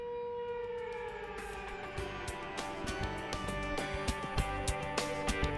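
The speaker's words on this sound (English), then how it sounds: "If the siren sounds, you must immediately move to the nearest muster point." A steady, sustained workplace evacuation siren tone holds over a busy background of overlapping clatter and brief knocks, continuous throughout without rising or falling.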